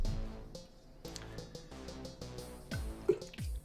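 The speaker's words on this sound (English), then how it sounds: "Spilled water." Spilled water drips in the card game Quantum Protocol, with a few soft, quick plinks and short watery sweeps over a quiet musical background.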